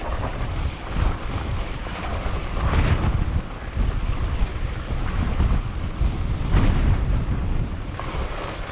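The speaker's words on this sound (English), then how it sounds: "I'm not riding straight into this wind anymore" Strong gusty wind buffeting the microphone while riding through Eagle Canyon, a loud continuous roar that surges and dips in waves, with no voices.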